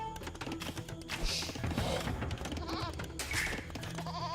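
A goat bleats in the Age of Empires II video game, a short quavering call heard faintly within busy game sounds, with other brief calls and taps around it.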